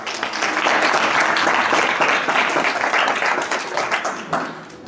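An audience claps continuously and loudly in dense, even applause, fading slightly toward the end.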